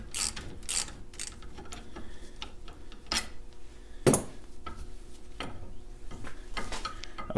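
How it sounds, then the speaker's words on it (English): A short ratchet working a seized bolt free with a bolt extractor, giving repeated clicking and grinding mechanical bursts at close range with sharper cracks in between, and no talking. "Probably the best way to go is using a ratchet, even a short one like this, and as you saw, it got the job done pretty quickly."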